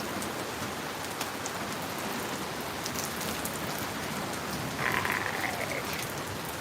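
Steady rain falls outdoors as a constant wash of patter. Frogs croak close by, and a short burst of chirping croaks rises near the end.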